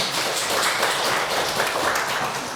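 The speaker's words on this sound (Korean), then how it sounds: "이제 박수라도 쳐줘" A church congregation at a Sunday service in Suwon applauds its Remnant youth, a dense, steady wash of many hands clapping at once, loud and sustained with no voices on top.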